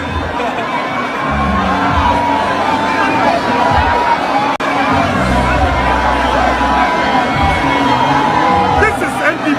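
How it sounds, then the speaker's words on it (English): A large, dense crowd at an NPP political event roars and cheers without pause, with shouts and whoops layered over a steady wall of babble. Loud and close throughout. "The crowd is crazy."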